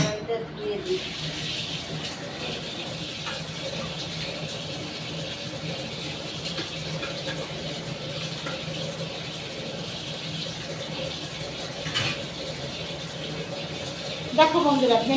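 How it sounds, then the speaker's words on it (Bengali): Tap water runs steadily into a sink as a wok is rinsed after cooking okra and prawns, a continuous hiss with occasional clatter and splashes near the end. "কড়াইটা ধুয়ে দিই।"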